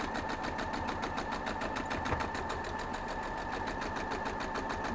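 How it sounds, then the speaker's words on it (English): A sewing machine stitches a quarter-inch seam on a quilt block, running at a steady fast rhythm of needle strokes for the whole stretch, fairly quiet and with no voices. "Sew it right down."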